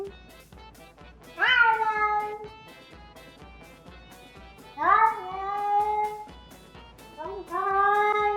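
A cat meows three times, each call rising then falling with clear harmonics, separated by quieter pauses, close and fairly loud with faint background noise.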